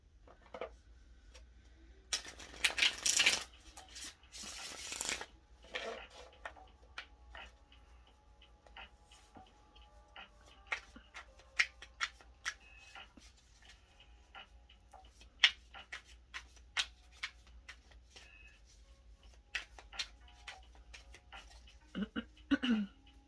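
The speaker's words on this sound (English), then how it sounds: "That's why I love tarot, because I love shuffling." Tarot cards being shuffled by hand, a run of crisp riffling bursts and scattered light ticks and taps, close and fairly quiet, with no talk.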